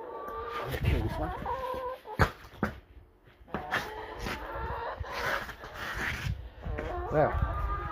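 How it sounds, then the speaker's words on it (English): Backyard chickens clucking close by in a garden, with repeated short clucks and squawks scattered across the clip, mixed with someone talking. "The chicken was about to eat it."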